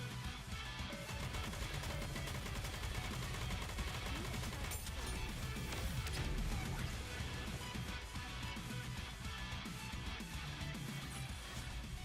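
Video game gunfire with dense, continuous bursts of shots and crashing impacts layered under a loud game soundtrack, steady throughout with no clear voice over it.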